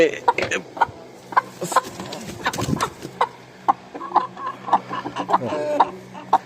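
A flock of Brahma chickens, a young rooster among them, clucks in short repeated bursts close by, with a voice talking intermittently over the birds.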